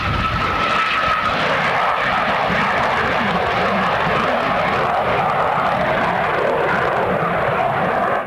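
A propeller airplane at an air show in Leicester roars steadily overhead, a loud, constant engine drone with a broad rushing noise that fills the whole stretch.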